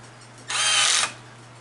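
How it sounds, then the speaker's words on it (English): A cordless drill set to screwdriver mode spins a Vera countersink to deburr a lathe carriage stop, giving one loud, high whirring burst of about half a second that stands alone over a low steady hum. "I have it on drill mode, or yeah, screwdriver mode."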